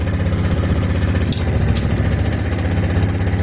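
A 22-year-old Suzuki Intruder 1500 LC motorcycle engine, long unused and recently worked on, idles steadily close by with a low, even rumble and no noticeable revving.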